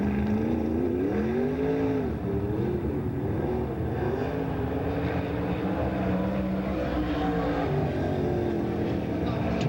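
A sprint race car on a short oval during a 1994 Hillbilly 100 qualifying lap, its engine droning steadily with rising and falling pitch as it circles, under a public-address announcer reading lap times.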